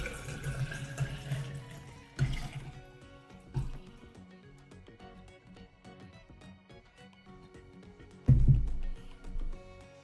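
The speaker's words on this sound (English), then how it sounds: "Need to refill my water." A tap runs into a sink to refill water, a faint continuous trickle with a few louder clunks and splashes scattered throughout, with no talking.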